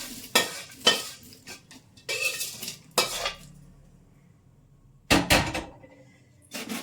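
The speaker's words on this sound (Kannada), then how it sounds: "ಈಗ ಇದಕ್ಕೆ ಹಾಕ್ಕೊಂಡು ಮಿಕ್ಸ್ ಮಾಡ್ಕೊಳ್ಳೋಣ" Puffed rice churmuri being stirred and tossed with a utensil in a metal vessel, a series of close rattling, scraping bursts separated by quiet gaps, with no voices.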